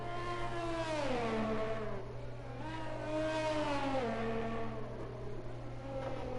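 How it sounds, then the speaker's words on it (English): An Alfa Romeo Formula 1 car in an F1 racing game runs a hot lap at the Vietnam Grand Prix, its high engine note rising and falling through repeated sweeping revs with no talking. "Driving his Alfa Romeo."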